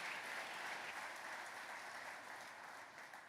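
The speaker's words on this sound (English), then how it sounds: "A huge round of applause," An audience applauding at the Tesla 2023 annual shareholders meeting in Texas, a dense sustained wash of clapping from a large crowd that stays faint and gradually tapers off.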